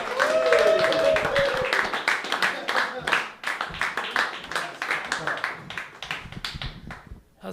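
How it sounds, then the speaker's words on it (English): Audience at a comedy open mic clapping for a comedian, a burst of applause with dense, uneven claps that gradually thin out, mixed with voices and cheers. "All right, everyone get your clappers clapping for Adam Murrican Murray."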